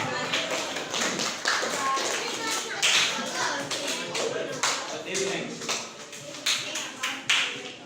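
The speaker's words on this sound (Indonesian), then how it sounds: "Tepuk tangan untuk kelompok 3" Classroom applause for a student discussion group, many hands clapping in an uneven, lively patter close by, with children's voices chattering throughout.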